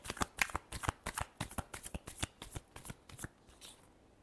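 Tarot cards being shuffled close by, a quick run of about a dozen crisp riffling bursts that fades out toward the end.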